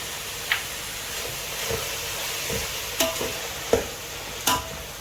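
Tomatoes with salt cooking in a pan for mutton biryani, a steady soft sizzle broken by several close, sharp scrapes and knocks as the mixture is stirred.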